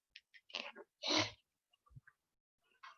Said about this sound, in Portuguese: esses produtos de esmalte, acetona, essas coisas de unha, me fazem espirrar toda hora